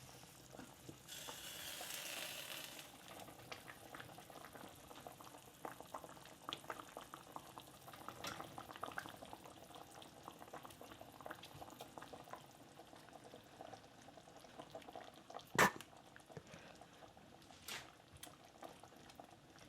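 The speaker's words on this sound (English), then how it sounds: "That's boiling nicely, is that? So in go the chicken pieces." Liquid bubbling and simmering steadily in a pot of chicken pieces in red wine sauce, with faint sizzling, an occasional stir, and a sharp clink near the end.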